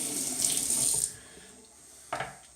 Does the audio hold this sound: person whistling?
no